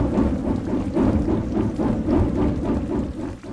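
Rain pours steadily with repeated rolling rumbles of thunder, loud and close, the storm swelling and fading in waves with no voices.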